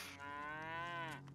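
A cow in the video game Divinity 2 gives a single drawn-out moo, clear and steady for just over a second.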